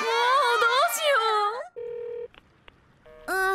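An unanswered cartoon telephone sounds a couple of flat electronic ringing tones with silent gaps between them, after a high animated voice speaks.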